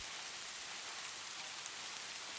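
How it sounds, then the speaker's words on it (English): Steady rain falling on a porch, an even, continuous hiss of drops with no change in intensity, fairly soft and heard alone without voices. "The rain's rhythm had settled into a steady, hypnotic pattern, neither increasing nor decreasing in intensity"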